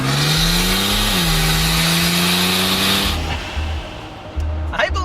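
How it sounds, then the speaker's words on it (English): GMC Typhoon performance SUV with a 4-speed 4L60 transmission accelerating hard in top gear, a loud droning engine note rising steadily, then cutting off into quieter rumbles and a passing whoosh. "impressive is its top gear acceleration. Like when you're gonna pass someone."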